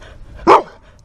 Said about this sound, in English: I got my killer guard dogs here ready to go.